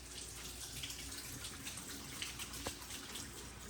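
A soft, worn lemon is rinsed under a running kitchen tap, giving a steady, fairly quiet hiss of flowing water with faint splashes and one brief knock partway through, and no talking.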